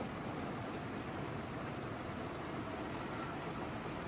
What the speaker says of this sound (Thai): ตอนนี้คือฝนตกพอดีหอดบ้าน